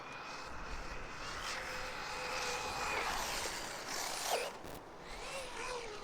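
Traxxas Slash 2wd RC car with paddle tires racing over sand dunes, a continuous high-pitched motor whine that holds steady and then swells as it launches, with a thin buzzy edge throughout.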